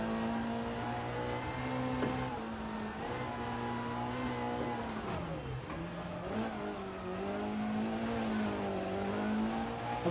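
A rally car engine drives on snow and ice in EA Sports WRC, humming steadily and rising and falling in revs as the car slides and drifts, with no talk over it.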